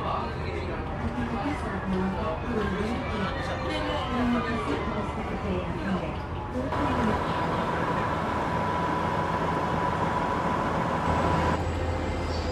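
A Gumarang passenger train at Pasar Turi station rumbles steadily alongside a crowd's chatter, and a sustained tone runs through the middle stretch before fading.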